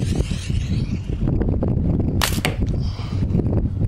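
A Chief AJ HFX sling bow with 30-pound bands fires a shot, giving a sharp snap and whoosh near 2.2 seconds over steady outdoor wind noise.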